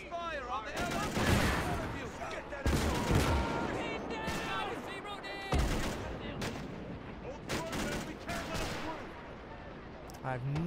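Gunfire and machine-gun bursts fill a battle on Iwo Jima in a video game, with dense, continuous rattling shots near and far, while people talk over them.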